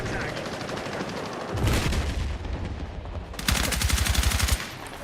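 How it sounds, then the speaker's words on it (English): Automatic gunfire crackles in Battlefield 6, two rapid bursts of close, loud shots separated by a quieter gap, with voices faintly underneath. "He was just shooting bullets hoping to hit."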